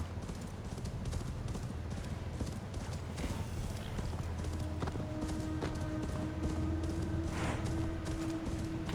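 Steady galloping hoofbeats of a horse being ridden in Assassin's Creed Valhalla, a continuous rhythmic clip-clop close by under ambient music.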